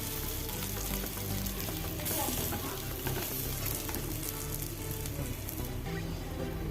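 Mackerel frying in a modest amount of hot oil gives a loud, dense, continuous sizzle and crackle, close up, with a brief rustle as the pieces are turned over partway through.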